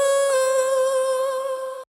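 A single dry vocal shot sample for future house, made in FL Studio, is heard as one sustained, bright sung tone that lasts under two seconds with a slight waver and then cuts off abruptly.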